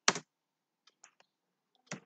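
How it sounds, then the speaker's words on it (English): A few scattered computer keyboard keystrokes while a database query is typed: a couple of louder clacks at the start and end with faint, sparse taps between, close and alone. "Now just query it by typing"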